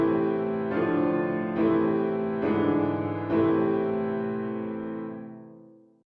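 A sung or played music example in a minor key from a sight-singing lesson: four chords or notes struck one after another at a steady pace, ringing over each other before fading out, with no talking.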